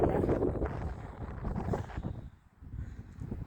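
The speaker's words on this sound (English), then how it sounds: "but it's windy." Gusty wind rushes across the microphone on a piney forest bluff, a loud broadband buffeting that dips briefly midway and then picks up again.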